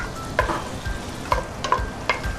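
Meat and onions fry in a pan for Ukrainian red borscht with a soft, continuous sizzle, broken by several sharp clinks and scrapes of a utensil against the pan.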